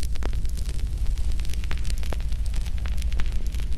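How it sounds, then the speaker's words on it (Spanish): A crackling fireplace fire playing on a television fills the room with steady loud noise, punctuated by sharp irregular pops and snaps. "No hay nada más bueno que el calor de una buena chimenea."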